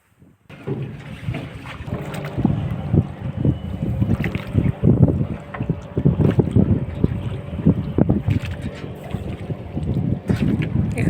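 A speed boat runs across the water at a tourist spot on a trip to Ranchi, its rumbling engine and slapping water heard up close under heavy gusting wind noise on the microphone.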